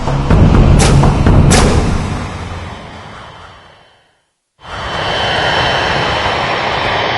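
Damaged airliner flying on two engines on final approach to Honolulu Airport, a loud continuous engine roar with a couple of thumps, fading to a brief silence before the heavy roar returns.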